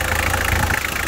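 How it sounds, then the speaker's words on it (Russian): A Toyota three-litre car engine idles steadily after a cold start at minus ten, a close, even mid-pitched rumble with a faint rhythmic knock and no talk. "Двигатель сам работает"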